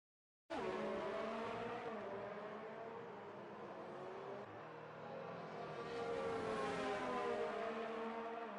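Formula 1 race cars in F1 2019 at the Singapore circuit roar steadily at high revs, several engines layered together with shifting pitch and occasional tire squeal, loud and continuous with no talk.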